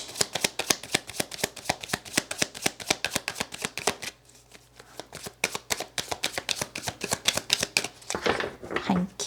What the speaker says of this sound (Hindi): तो आपके लिए कार्ड्स को शफल करते हैं।